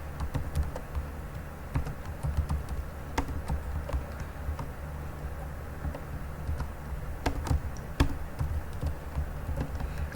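Code being typed on a computer keyboard in a quiet room, a steady close patter of light key taps with occasional louder strokes.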